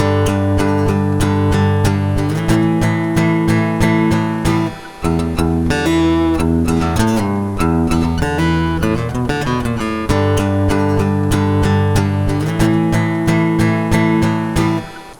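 Distorted electric guitar plays a loud, steady chorus riff of chugging power chords from a song, with a brief gap midway before the riff resumes.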